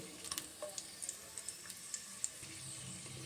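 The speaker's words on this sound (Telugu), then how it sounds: "ఒకసారి బాగా ఫ్రై చేసుకుందాం." Cashews and raisins fry in a pan for kheer with a soft, continuous sizzle, dotted with small sharp ticks and pops at irregular intervals, quiet and close, nobody speaking.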